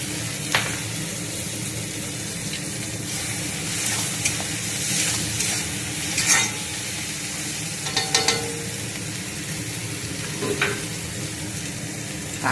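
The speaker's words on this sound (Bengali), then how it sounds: "এখন টমেটোগুলো দিয়ে দেবো," Tomatoes fry with onions in crab oil in a pan, a continuous close sizzle broken by occasional scrapes and knocks of stirring, with no talk.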